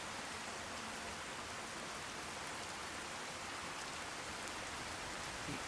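Steady rainfall in the game Fallout 4, a constant faint hiss of rain with no breaks and no voices.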